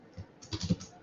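Quick, light keystrokes on a computer keyboard, a short cluster of soft taps close by, quiet and alone.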